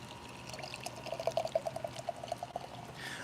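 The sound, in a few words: pouring whiskey or beer over a steak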